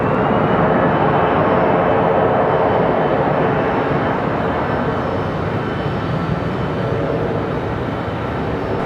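Aircraft taking off from runway 5 left at Raleigh-Durham airport, a loud, steady broadband engine roar held throughout without a break.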